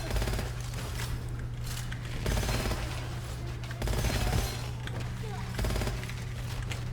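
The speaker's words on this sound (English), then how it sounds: "with this gun isn't the greatest because it reloads really quickly. It's got an insane rate of fire." Rapid automatic gunfire from a high rate-of-fire weapon in the shooter game Gunfire Reborn, a dense continuous rattle of shots over a steady low game drone, loud and sustained throughout.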